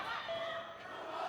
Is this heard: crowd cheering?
yes